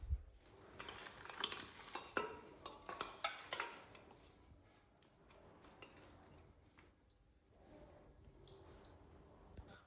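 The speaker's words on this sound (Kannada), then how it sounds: "ನಾನು ಹುರ್ಕೊತಾ ಇದ್ದೀನಿ. ಈರುಳ್ಳಿ ಎಣ್ಣೆ ಕಮ್ಮಿ ಹಾಕಿದ್ದೀನಿ" Mutton pieces and onion frying in a little oil, with a dense sizzle under repeated metal scraping and clattering from a spoon stirring the pan, busier at first and then settling into a steadier crackle.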